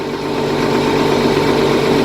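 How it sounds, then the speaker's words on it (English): A 1086 tractor engine idles close by, a loud, steady, even rumble with a constant low throb and no voices. "So, I'm going to take the tractor for a spin."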